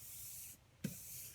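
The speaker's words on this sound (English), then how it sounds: "spray from far away" Spray adhesive hisses from an aerosol can onto a doormat in a steady, faint spray. The hiss breaks off briefly and then resumes.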